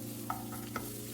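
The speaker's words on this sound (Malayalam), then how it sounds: "എന്നിട്ട് കുറച്ച് കാഷ്യൂനട്ട് ഒന്ന് റോസ്റ്റ് ചെയ്തെടുക്കാം" Cashew nuts roasting in ghee in a pan, a soft steady sizzle with a couple of light stirring scrapes, quiet and close, with no talk.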